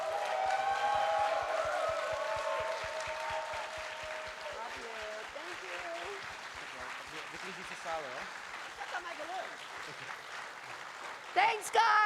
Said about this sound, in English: make one huge applause for wonderful Elley Ray.